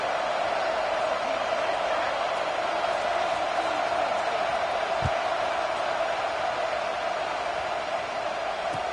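College football stadium crowd at a Mississippi State game, a steady, subdued wash of murmuring and noise that holds even across the whole stretch without any sharp cheers.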